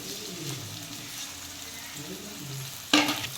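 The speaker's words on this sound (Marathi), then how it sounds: "आता मस्त कांदा झाला ना परतून हा" Onion sautés in oil for a pumpkin dish, a low steady sizzle with faint murmuring talk, then a sudden louder hiss and clatter near the end as the pan is stirred.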